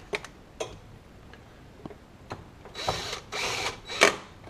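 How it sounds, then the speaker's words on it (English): Cordless drill on a light clutch setting driving screws on a Honda Pioneer 1000 UTV during an air filter change, with sparse ticks and clicks building into several short whirring bursts near the end, close and moderately loud, with no talking. "I set the clutch on the cordless drill real light."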